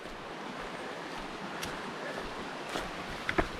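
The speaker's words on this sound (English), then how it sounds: "Beautiful creek." A creek flows along a forest trail as a soft, steady wash of water, fairly faint and continuous, with a few small rustles and knocks near the end.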